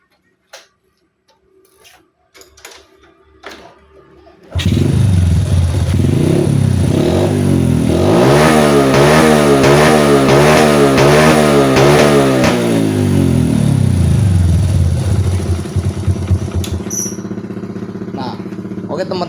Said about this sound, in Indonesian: Jadi kita nyalain dulu motornya dan coba kita nyalain motornya ya, gimana suaranya ya